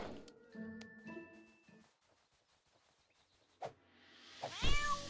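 A cat meows several times in quick succession in the video game South Park: The Stick of Truth, followed by quiet and then a sharp sweeping game sound effect.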